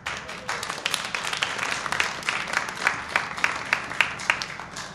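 A stand-up comedy crowd claps in a brisk, uneven patter of many hands, steady and fairly close for a few seconds with no talk over it.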